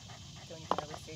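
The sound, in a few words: dog panting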